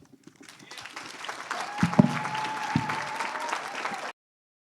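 A morning showcase audience claps to welcome council representatives, a steady wash of applause that swells and holds for about four seconds before cutting off abruptly.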